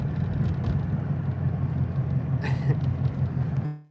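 A UPS delivery truck drives past on a road, a steady low engine rumble close by that holds for several seconds and then drops away abruptly, with a faint bird chirp mixed in briefly.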